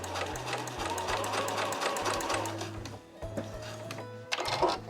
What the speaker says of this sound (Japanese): ミシン目を二重にしていきます。